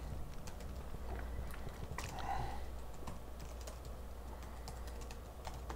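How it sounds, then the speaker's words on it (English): Typing on a computer keyboard during a live Q&A stream: a quiet, steady run of light clicking keystrokes in irregular bursts, alone with no talk. "I'm trying to type."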